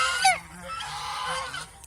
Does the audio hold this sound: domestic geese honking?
yes